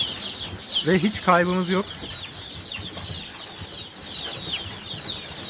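Young Leghorn chickens in a coop, about forty days old, give a short burst of clucking and squawking near the start, with soft chirps and rustling afterward while someone speaks nearby.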